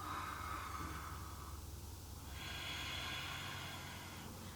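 A long, steady breath drawn in during a morning yoga exercise, soft and airy with a slight nasal hiss, close and alone with no talk.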